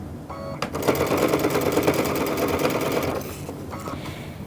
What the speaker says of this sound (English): So I'm going to sew a little bit more